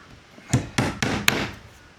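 A chalk line is snapped onto a floor inside a century-old house under renovation, making four sharp, close slaps in quick succession, each with a brief ringing tail.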